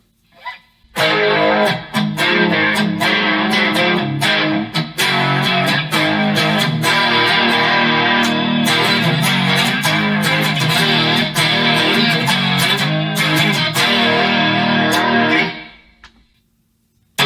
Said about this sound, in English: So this is the Overdrive preset.